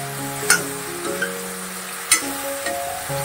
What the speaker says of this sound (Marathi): असं सगळं ड्राय भाजून परतून घ्यायचं